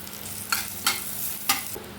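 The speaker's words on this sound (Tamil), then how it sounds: "தாளிப்பு வறுபட்டுடுச்சுங்க. இப்போ கருவேப்பிலை கொஞ்சம், பெருங்காயம் சேர்த்துக்கலாம்." Tempering sizzles in hot oil with curry leaves and asafoetida, a steady soft frying hiss broken by three sharp crackling bursts as the leaves hit the oil, close and fairly quiet.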